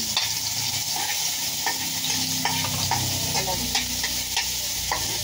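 Garlic frying in oil in a pan while being stirred for kare-kare, a steady close sizzle with repeated scraping clinks of the utensil against the pan.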